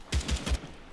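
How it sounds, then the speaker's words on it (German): Gunfire in the military shooter game ARMA 3: three muffled, booming shots fire in quick succession at moderate distance, followed by a faint fourth report. "Oh, irgendwo ist Schuss."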